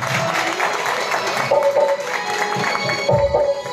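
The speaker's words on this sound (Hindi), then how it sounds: "जोरदार से तालियां।" Audience applause and cheering for a third-place finisher at the Kinnaur Idol singing contest results, a steady dense wash of clapping with crowd noise throughout.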